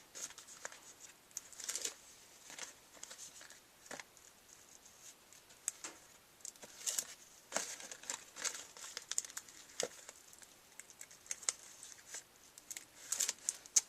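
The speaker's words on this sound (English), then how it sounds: "And just peel off the backings again." Backing strips are peeled off double-sided score tape on a handmade card, a quiet close series of crinkly plastic rustles and soft crackles, with no talk.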